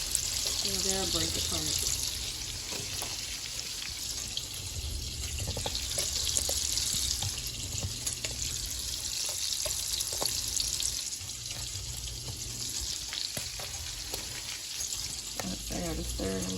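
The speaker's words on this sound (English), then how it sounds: "Put them in the pan just like that." Food frying in a pan, a steady hissing sizzle running throughout at moderate level beneath a person talking.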